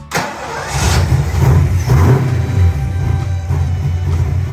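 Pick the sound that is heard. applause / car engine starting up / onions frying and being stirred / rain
car engine starting up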